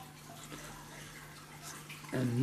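Water trickles and splashes through a homemade overflow trickle filter on an aquarium. It is a faint, steady wash over a low hum, and a voice begins speaking in the last moment.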